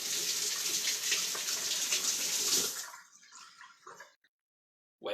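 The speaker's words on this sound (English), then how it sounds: "So here comes the water." Tap water runs in a steady rushing stream over a peach for about three seconds, then cuts off. A few splashes and drips follow before near silence.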